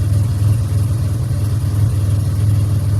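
A 2007 Pontiac Grand Prix GT with an XPZ cam idles on a hot day, giving a steady, close, even low-pitched throb with a slight pulse throughout.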